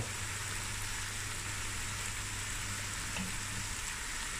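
Masala spices frying in a pot for a black-eyed bean curry, giving a steady, even sizzle with a soft hiss throughout and no talking.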